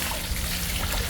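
Clear water flows in a stream with a steady, close, rushing trickle and gurgle that fills the whole moment, with no voices.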